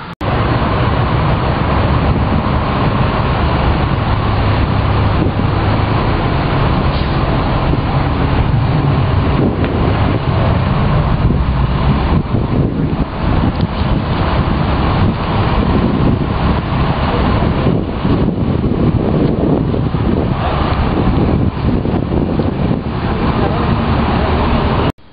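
Steady downtown street traffic with gusting wind buffeting the microphone at a bus stop, a loud continuous roar of passing vehicles for the whole stretch, with a voice talking faintly underneath.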